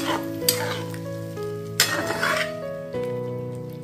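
Ivy gourd curry gets stirred in a pan just after water goes in, giving a bubbling sizzle with a couple of sharp metal scrapes and clinks from the utensil against the pan. It is fairly close and no one speaks.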